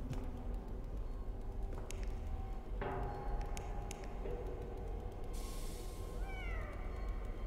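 Several short meows from a cat in the indie horror video game We Are Saved, quiet and scattered over a low ambient game hum, with a brief rising cry near the end.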